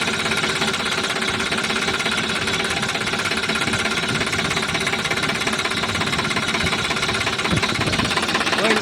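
A 2013 Sonalika DI 60 tractor's diesel engine runs close and loud at a steady idle, with an even, rapid knocking throb that holds unchanged throughout.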